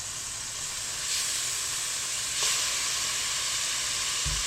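Reconstituted onions sauté in a pan with a soft, steady sizzle and hiss that swells briefly twice, then a low clunk at the end.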